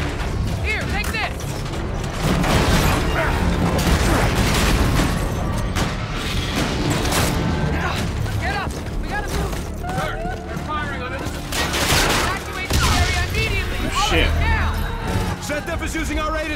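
Gunfire and booming explosions in the Call of Duty: Infinite Warfare campaign, with sustained bursts of shots and heavy blasts over a loud battle din, while voices talk over the combat.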